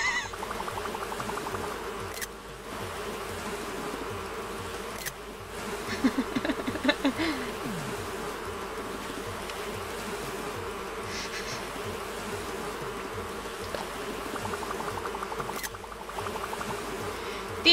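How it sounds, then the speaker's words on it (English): Angry wasps from Animal Crossing New Horizons buzz in a steady, continuous drone, with a few brief shifts and faint background game sounds along the way. "These wasps are really mad."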